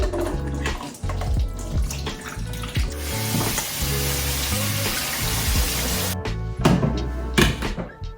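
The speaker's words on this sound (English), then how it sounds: "I'll just be using 1 can of chickpeas, and to start off, we're going to rinse and drain them." A can of chickpeas is rinsed and drained under a running tap, giving a steady, close rush of water with a few clunks from the can and colander.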